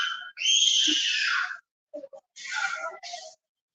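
Child screaming loudly inside a Costco store, a piercing high-pitched shriek held for over a second, followed by a few shorter shrill bursts, with near silence between them.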